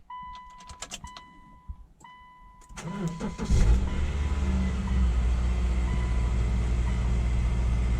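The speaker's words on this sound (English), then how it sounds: "I'm gonna go ahead and turn on the car" A 2010 Subaru Outback with a CVT turns over: a few quiet clicks and dash chimes, then the starter cranks and the engine catches, settling into a steady, loud idle rumble that continues to the end.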